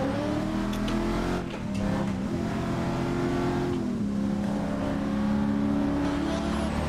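Car engine in the Assetto Corsa racing game, sliding through traffic: a sustained loud droning rev with shifting pitch, holding high revs and easing briefly, with faint tyre noise and no voices.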